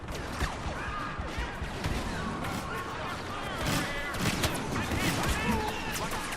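Blaster fire from an EE-4 rifle in the Star Wars Battlefront video game, a dense stream of sharp zaps and bursts mixed with other battle noise, steady and loud throughout.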